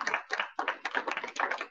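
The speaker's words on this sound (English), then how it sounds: "can you give a round of applause?" Clapping for panelists at the end of a discussion, a short run of distinct close hand claps from a small group, dry and slightly irregular.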